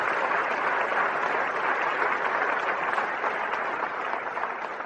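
An audience claps steadily and fairly loudly at a road safety skit, a dense wash of applause that carries on evenly with no talking over it.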